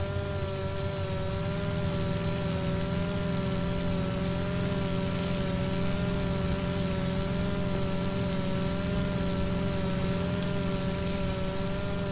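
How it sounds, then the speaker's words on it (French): Steady broadband patter of rain on a small light aircraft's airframe in flight, filling the whole stretch at even loudness over the constant drone and harmonic hum of the piston engine, with no voices. "Et bien la pluie."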